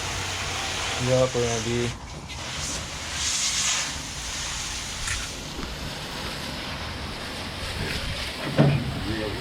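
A pressure-washer water jet blasts dirt off a VW T3 Kombi van in a continuous loud hiss and spray, while people talk briefly over it.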